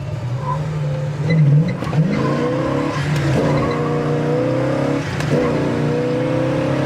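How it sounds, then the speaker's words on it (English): A 1965 Pontiac GTO engine revs and climbs through four gears, pitch rising then dropping at each shift, loud and close, with a brief squeal of tires. "Downshift to Third."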